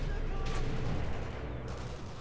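Two sharp rifle shots in Sniper Elite V2 crack out close together amid a dense, noisy game soundscape, followed by a low rumbling tail.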